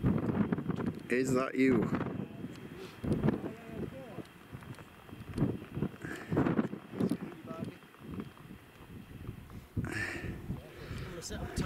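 Breezy wind buffets the microphone at a wild camp in the Lake District at night, gusting unevenly throughout while people talk close by.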